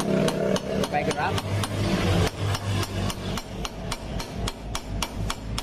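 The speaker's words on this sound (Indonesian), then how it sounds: "Dipukul ininya pakai kunci bisa supaya gerak kayak gini, ya," A wrench repeatedly strikes the brake caliper part of a Vario 150 scooter, giving sharp metallic knocks in a quick, uneven rhythm, close and fairly loud, with a voice talking briefly at the start.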